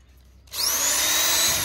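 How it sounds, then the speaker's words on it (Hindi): A 230-watt electric drill machine, powered straight from a solar panel with no battery, starts up after a quiet moment and spins up to a steady, loud, high-pitched whine. "जो ड्रिल मशीन थी ये 230 वाट सबसे कम वाटेज वाली मशीन थी"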